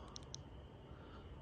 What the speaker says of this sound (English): double click to turbo